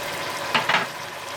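Chopped tomatoes dropped into a pan of sautéed ginger and garlic, sending up two quick bursts of sizzling over a low steady frying hiss.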